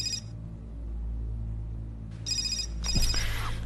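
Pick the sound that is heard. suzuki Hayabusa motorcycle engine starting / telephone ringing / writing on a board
telephone ringing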